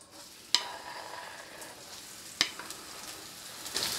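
Chili flakes and onion cooking in oil in a pan for spicy chicken ramen, a steady close sizzle punctuated by two sharp spatula clicks and a brighter hiss flaring at the end.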